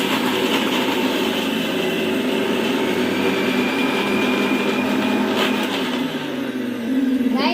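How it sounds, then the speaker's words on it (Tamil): A kitchen mixer grinder jar grinds chopped coconut for homemade ice cream, producing a loud, continuous whirring and churning roar close by, with a brief dip before it picks up again. "இப்போ இதெல்லாம் ஒரு ஜாரில் போட்டு அரைக்கணும்"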